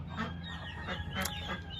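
Rescue ducks on a free-range homestead calling in a run of honking, nasal quacks, close by and fairly steady across the short stretch.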